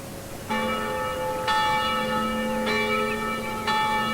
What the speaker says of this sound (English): The bell in the nearby church began to toll.